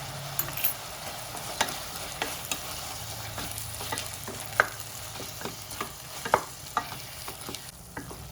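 Chopped tomatoes and salt fry in oil in a pan while a spoon stirs them, giving a steady sizzle broken by sharp scraping clicks at irregular intervals, close and moderately loud with no voices.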